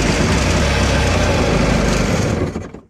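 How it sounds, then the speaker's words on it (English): A 1989 Yamaha WaveRunner 500 engine, started without choke on finger-tight plugs, runs loud and close with a raspy, steady two-stroke drone before cutting off. "The 89 WaveRunner 500. Fired right up."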